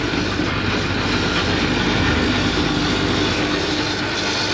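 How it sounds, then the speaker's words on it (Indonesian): Bamboo satay skewers tumble inside a running polishing machine, giving a loud, continuous rattling roar with a woody rubbing texture that holds level throughout. "Seperti ini guys, mesin poles."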